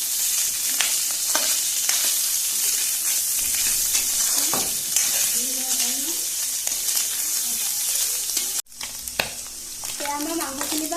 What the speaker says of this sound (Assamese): এয়া আমি মাংসখিনি অকণমান ফ্ৰাই কৰি লৈছো